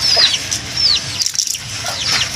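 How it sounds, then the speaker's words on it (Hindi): A rooster at a mini zoo clucks repeatedly in short, close, high-pitched calls, with a few soft chirps and a brief pause midway. "ये वाला मुर्गा है, ये वाला प्यारा मुर्गा है ना।"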